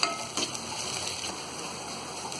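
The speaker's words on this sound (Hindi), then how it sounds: "मूंगफली भी अपनी फ्राई हो गई है" Peanuts frying in a pan for poha, a steady close sizzle with a brief stirring clatter near the start, heard alone with no talking.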